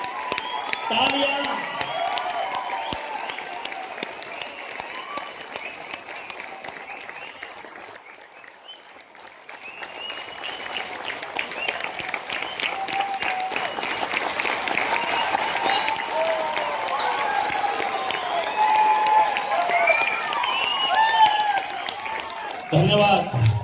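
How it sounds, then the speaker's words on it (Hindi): A large audience at a Surat event claps steadily and loudly for a long stretch, the applause dipping briefly midway before swelling again, with scattered cheers. "तालियां।"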